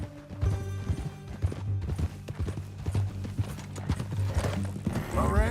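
Horse in the video game Red Dead Redemption 2, with rhythmic clip-clopping hooves close by, punctuated by loud neighs and whinnies, and a faint murmur of voices underneath.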